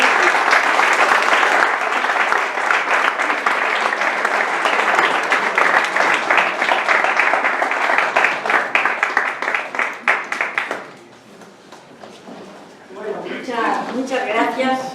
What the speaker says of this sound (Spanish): pido un fuerte aplauso para Enrique Zambrano